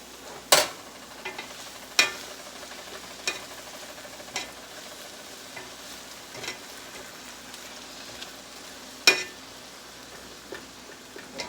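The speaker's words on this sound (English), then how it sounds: "Just frying it a little bit." Minced garlic sizzling in a pan as the base for a shrimp and lobster tortilla cream soup, a low steady frying hiss punctuated by occasional sharp clinks of a utensil against the pan.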